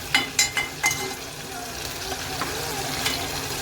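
Ginger-garlic paste sautéing in a pan, a steady close sizzle with a few sharp scraping stirs near the start, then continuous frying hiss.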